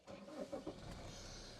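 Saab 9-5 Vector TiD4 from 2010 starting up: a short cranking burst that catches into a steady, fairly loud diesel idle close by, with no talking.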